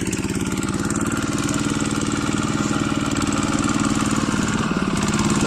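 A plough tractor's engine runs loud and close with a rapid, even chugging pulse, holding steady throughout with a slight shift near the end.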